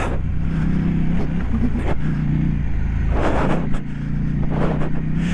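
A 2023 KTM 890 Adventure mid-size adventure motorcycle is being ridden, its engine droning steadily under rushing wind noise, with the pitch rising and falling slightly as the throttle changes.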